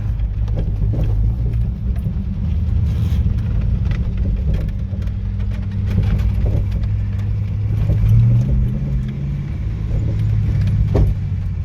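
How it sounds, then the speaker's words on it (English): An Albion CX22 lorry on a test drive after carburettor idle-mixture and ignition-timing adjustments drones loudly and continuously with a mid-pitched engine note and occasional sharp exhaust pops, alongside cab rattles and jangling. "Exhaust bangs a bit."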